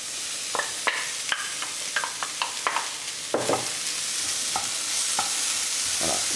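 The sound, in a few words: onions frying in a pan with pork rinds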